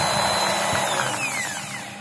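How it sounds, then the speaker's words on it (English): Close electric drill spinning steadily with a high whine that slowly winds down in pitch. "So I'm going to use it right now to power this drill."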